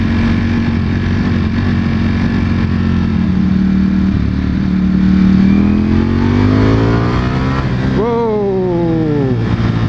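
A 2021 Ducati Panigale V4S motorcycle engine roars steadily while riding, its pitch climbing through the gears, then dipping and rising sharply in a quick rev toward the end, loud and close with rushing wind.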